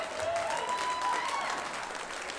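Audience applause at a stand-up comedy show, a broad steady wash of clapping filling the whole stretch at moderate level, with a faint tonal whistle or feedback line drifting through it.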